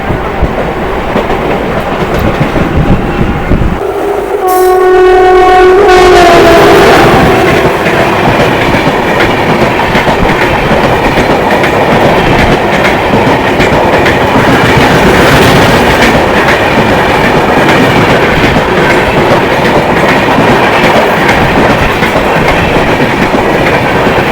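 A train runs on the Sealdah to Howrah route, loud and steady with continuous rail rumble and clatter throughout, a brief horn-like tonal burst near the start, and road traffic such as lorries alongside.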